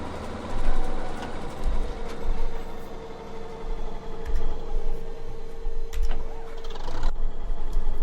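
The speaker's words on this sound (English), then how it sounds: "can you start the tractor up again?" A tractor engine in the video game Farming Simulator 17 runs with a steady mechanical drone and a sustained whine, with a few clunks and shifts in loudness along the way.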